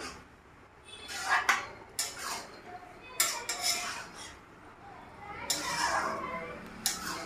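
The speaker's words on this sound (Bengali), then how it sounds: "তো এবার আমি এটাকে ভালো করে মিশিয়ে নিচ্ছি।" Chopped cabbage and egg, with a little sugar, are stirred together in a pan, giving quiet intermittent scrapes and clinks of a utensil against the pan with soft rubbing between them.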